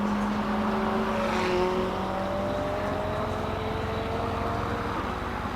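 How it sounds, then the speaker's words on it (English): A 2017 McLaren 570S rolls toward the start line at the Simola hillclimb, its engine note rising in a steady, moderately distant drone over constant crowd and event background. "Another McLaren making its way to the start line now."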